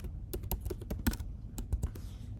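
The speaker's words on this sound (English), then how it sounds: "I'm just going to type energetic here" Quick keystrokes tap on a computer keyboard, about a dozen crisp clicks in an uneven burst, close and fairly quiet with no talk.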